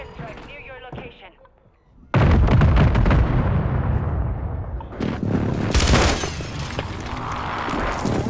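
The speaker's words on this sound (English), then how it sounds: "An airstrike near your location." Airstrike explosions in Call of Duty Warzone on Rebirth Island: a sudden heavy boom hits after a brief quiet, followed by rolling blasts, gunfire and further impacts, loud and dense, with a radio voice talking over it.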